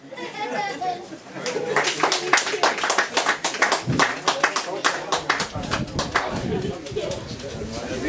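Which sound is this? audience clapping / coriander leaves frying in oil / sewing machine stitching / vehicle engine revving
audience clapping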